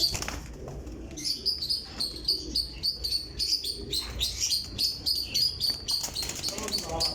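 Rampuri pigeons and other birds chirp and twitter continuously, close by, over a rough, noisy background with faint wing and movement sounds.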